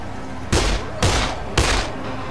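Gunfire in the Dead Island game: three loud, sharp shots evenly spaced about half a second apart over a steady background hum.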